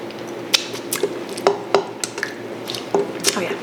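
Cream of mushroom sauce with garlic pieces is poured over a dish, giving soft wet squishes and drips mixed with several sharp clinks of utensils against the dish, close and fairly loud in a quiet kitchen.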